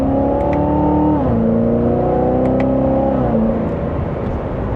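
A Chevrolet Corvette C7 Z06 engine accelerates in second gear, giving a loud, close, continuous roar with a strong harmonic tone. The pitch dips twice and then climbs again.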